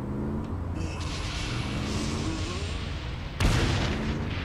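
Explosions boom through a Saints Row game scene, a steady rumbling wash punctuated by a sudden loud burst near the end.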